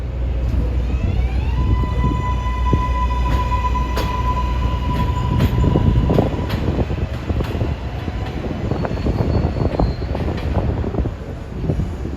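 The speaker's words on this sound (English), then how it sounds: "Now here comes a Flushing-bound local approaching Junction Boulevard" A Flushing-bound 7 line local subway train pulls into Junction Boulevard station in New York City, its steady loud rumble and clatter filling the platform, with a sustained wheel squeal and whine rising above the roar.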